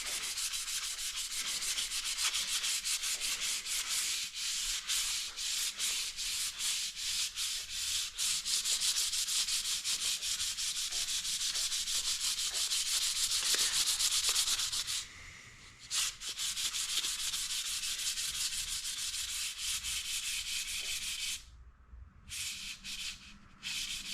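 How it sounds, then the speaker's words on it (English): Sandpaper rubbed steadily over a wooden Comanche short bow, a continuous close scratchy rasp of repeated strokes that pauses briefly twice near the end, with no talking. "And you just want to keep sanding until your wood smooths out on the bow."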